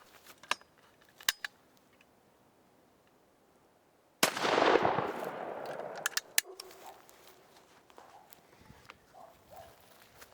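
A Bettinsoli X8 over-and-under shotgun fires its second barrel, fitted with a full choke, outdoors: one sharp, loud blast that rings out and fades over a couple of seconds, with a few small clicks and handling noises around it.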